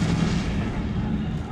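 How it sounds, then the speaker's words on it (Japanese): Explosion in the video game Resident Evil 7, set off by a remote bomb: a sustained, loud low rumble and crackle that rolls steadily through the whole moment with no speech over it. "え、なんか爆発したかな。"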